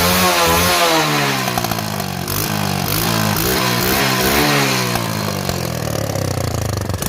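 A motorcycle engine with a damaged silencer runs loud and steady, its rough exhaust note rising and falling with revs under a harsh, rattling buzz throughout.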